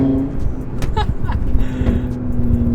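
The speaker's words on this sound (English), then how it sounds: "this is what typically I guess you would hear from a switch path exhaust system with the valve open" Audi RS3 with a switchpath exhaust, its valve open, rumbling loudly close by in a deep, steady drone with brief revving swells, heard on its own without talk.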